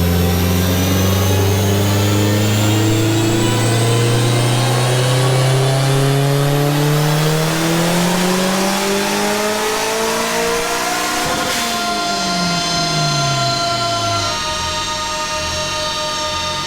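A turbocharged 1.8T engine in a Mk2 running on ethanol with raised boost, loud and close, climbing steadily through a long rev with turbo whine, then a sharp break near the top before it drops and rises again.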